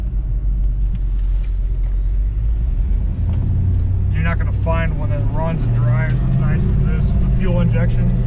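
A 1955 Pontiac Chieftain wagon drives along with a steady low engine rumble heard from inside the car, as someone talks over the drone.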